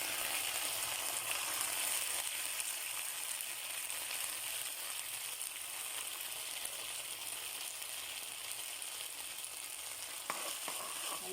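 Eggs fry with sardines in a pan, giving a dense, continuous sizzle and crackle that stays close and steady throughout with no voices.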